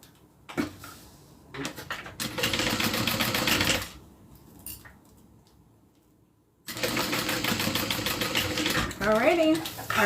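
A sewing machine runs a stay stitch along a wallet in two bursts, a shorter one early and a longer steady run later, with handling sounds and quiet pauses between.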